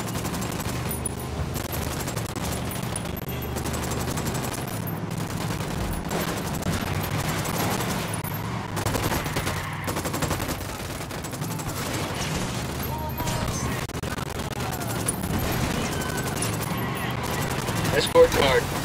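Sustained automatic gunfire from a Ghost Recon Wildlands firefight, dense bursts and rattling volleys continuing throughout, with radio-style voices speaking over the shooting.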